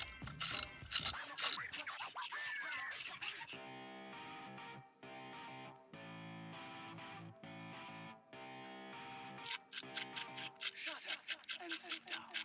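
A ratchet wrench removes 10mm coil pack bolts during a spark plug change, with bursts of rapid close clicking at the start and end separated by quieter handling.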